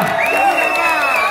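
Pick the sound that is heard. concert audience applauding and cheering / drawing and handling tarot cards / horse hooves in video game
concert audience applauding and cheering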